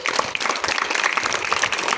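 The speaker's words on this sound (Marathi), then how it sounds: "तुमच्यासाठी एकदा जोरदार टाळ्या वाजल्या पाहिजे." An audience claps during a women's day programme at a school, a brief, dense patter of many hands that stays steady and fairly close throughout.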